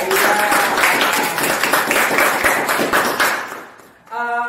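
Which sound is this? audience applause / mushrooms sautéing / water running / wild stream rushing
audience applause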